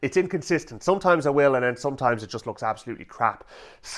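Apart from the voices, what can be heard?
No everyday noises stand out.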